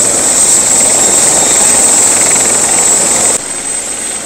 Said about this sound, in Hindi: दो दो हेलीकॉप्टर यहाँ पर चल रहे भाई